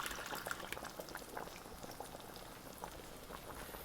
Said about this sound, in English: So here I've got about 1 liter of milk just going in to balance out all the flavor and the texture